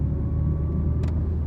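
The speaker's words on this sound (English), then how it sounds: "This car can move, I tell you, for a 30-year-old car." A 30-year-old Mitsubishi Lancer EVO1 driving on the road in second gear, with ignition timing off, a steady close low engine rumble and drone heard from inside the car, with no talking.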